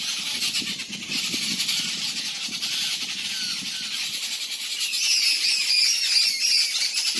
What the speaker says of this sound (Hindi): अभी देखो ये पक्षी बोल रहे हैं